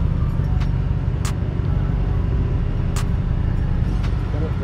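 The original engine of a twin-turbo Chevrolet Caprice rumbles loud and close in a steady, heavy drone, with a few short sharp hisses cutting through.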